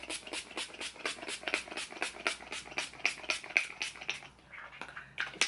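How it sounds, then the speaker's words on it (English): A rapid series of short hissing spritzes from a Mario Badescu cucumber facial mist spray bottle, about a dozen bursts in quick rhythm, close by, then a pause and one more puff. "Let me just give a spray at my face."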